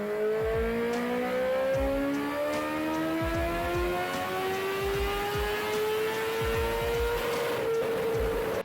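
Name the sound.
Bimota BB3 motorcycle engine sound clip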